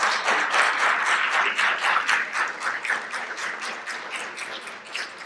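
Audience applause at an MLK Jr. memorial breakfast: steady, dense clapping from a crowd that holds for several seconds and fades slightly toward the end, with no talk over it.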